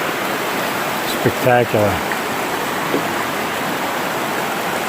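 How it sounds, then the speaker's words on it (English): Constant rushing roar of a waterfall in a gorge along the Appalachian Trail, a broad steady wash of falling water under a single brief spoken word from a nearby hiker. "Just came down to some beautiful waterfalls."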